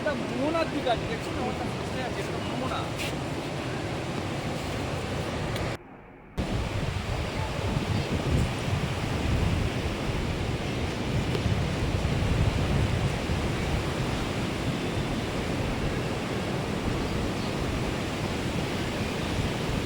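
Sea waves breaking and wind blowing at an uncrowded beach, a steady broadband roar of surf and gusts lasting throughout, with a brief dropout partway through.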